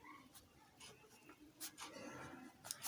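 Pen scratching across paper in short strokes while a ledger entry is written out, faint and close, with soft scattered noise around it.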